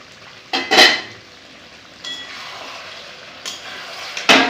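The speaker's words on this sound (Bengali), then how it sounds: "এবারে ঢাকা দিয়ে দিব।" A metal lid clinks and knocks onto a cooking pot of yogurt okra curry in a home kitchen, a few short, close, sharp contacts spaced apart over a low background hiss, with no talking.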